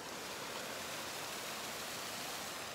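Creek water flowing steadily outdoors at a summer camp, a continuous rushing, hissing wash at even loudness throughout, close by and with no voices.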